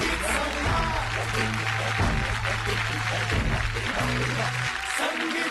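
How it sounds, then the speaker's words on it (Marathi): Studio audience on the stage of Sangeet Samraat Season 2, a Marathi TV singing competition, gives a steady, dense wash of clapping for the six grand-finale contestants, running throughout under sustained background music. "एकदा या सर्वांसाठी जोरदार टाळ्या"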